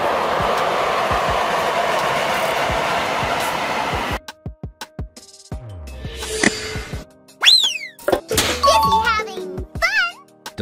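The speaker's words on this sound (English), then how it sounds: "Light rail. It's a modern, energy-efficient system that serves short urban routes with frequent stops." A modern light rail train rolls past with a steady broad rumble for about four seconds, followed by scattered voices and short bright tones.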